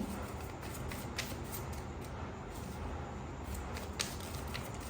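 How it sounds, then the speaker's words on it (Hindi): Tarot cards are shuffled close up in a continuous, soft, papery riffling that stays even with a few slightly louder flicks. "so let's start shuffling"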